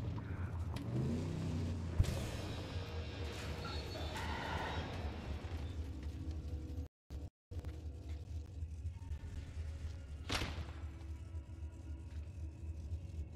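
A car engine revving and rumbling in a Mad Max style driving game, a steady mid-pitched growl that rises and falls, with a brief dropout and a sharp burst near the end.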